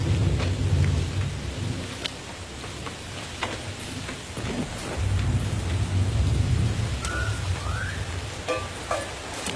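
A storm brings steady rain and deep, rolling thunder that swells and recedes in heavy low rumbles, with scattered sharper crackles and no voices.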